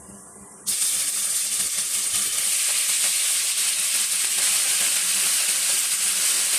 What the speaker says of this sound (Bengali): পেঁয়াজ কুচিগুলো লাল লাল করে ভেজে ভেজে দিয়ে দেব টুকরা করে রাখা মাংসগুলো